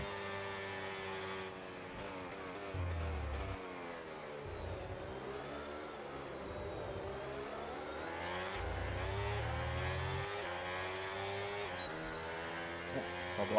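An F1 car engine in F1 26 racing at Spa, a steady high-pitched whine that climbs and drops through quick successive upshifts, heard alone without talk for over ten seconds.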